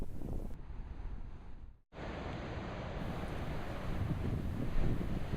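Waves washing against the rocky Nova Scotia shoreline, a constant roaring surf with heavy wind buffeting the microphone and a brief dropout midway.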